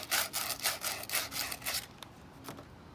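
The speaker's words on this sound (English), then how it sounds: "sanding the 1/2 inch copper pipe." A 1/2 inch copper pipe being sanded by hand, giving close, rhythmic back-and-forth scraping strokes in quick succession for about two seconds, then a pause and a single last stroke.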